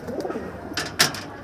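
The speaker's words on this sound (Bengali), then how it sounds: "কবুতরগুলো খাবার টাবার খায় নিতেছে" Pigeons coo softly at night while pecking at their feed, low throaty murmurs rising into a couple of louder coos near the end, close by with no talk.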